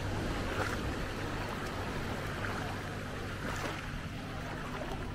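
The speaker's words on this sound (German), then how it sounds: "wie das Wasser jetzt aus dem Atlantik hier ankommt" Atlantic surf washing up onto a sandy beach at Maspalomas, a steady broadband roar of water with gentle swells in intensity, mixed with a light wind, and no voices.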